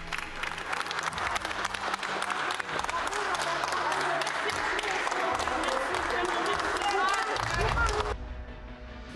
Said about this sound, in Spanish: Afuera de la corte, un grupo de feministas, ciudadanos y pobladores de Massan recibieron a Giselle entre aplausos.